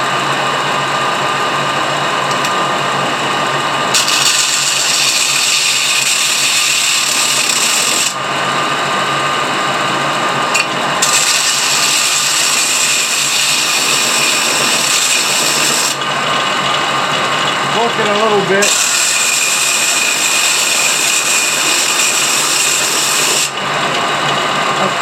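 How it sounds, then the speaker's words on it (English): A sander grinds rock matrix away from a fossil crab from Washington, running loud and continuous with a steady high whine, its pitch shifting briefly as pressure on the stone changes over the length of the clip. "definitely faster than that sander. I shouldn't say that sander because this is a sander too"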